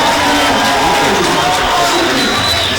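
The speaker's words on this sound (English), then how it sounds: "And you heard that roar from the crowd." A packed gym crowd at a high school basketball game between SPHS and Marist roars loudly and steadily, a dense wash of cheering and shouting voices.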